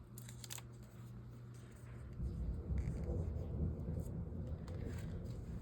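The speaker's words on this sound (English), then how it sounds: "There's the thunder." Low thunder rumbles and swells from a distance before a storm, building in the second half over an outdoor background with a few faint clicks.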